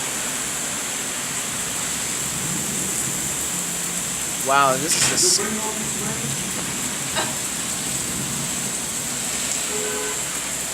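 Heavy rain from a severe thunderstorm in the Bronx, New York City, pours as a dense, steady hiss throughout, while someone speaks briefly in the middle.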